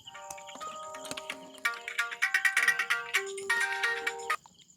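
A mobile phone plays a melodic ringtone: bright stepped tones rising and falling in a repeating tune, loud and clear, with no talk over it, stopping abruptly near the end.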